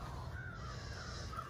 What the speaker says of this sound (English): those crows really need to shut the fuck up